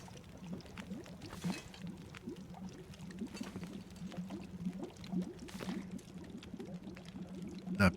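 Water pouring in the survival video game The Long Dark, a continuous gurgling trickle with bubbly splashes and a few louder swells, close and steady, with no talking.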